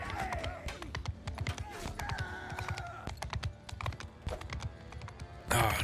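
Rapid clip-clop of hooves from a galloping horse in Bannerlord with a Game of Thrones mod, loud and continuous amid battle clatter.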